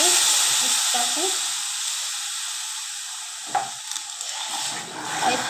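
Milk poured bit by bit into a hot pan with the gas turned off and stirred in, while making coconut-peanut sesame laddu; a steady sizzle and hiss fills the pan, with a few soft scraping stir sounds and faint bumps near the end.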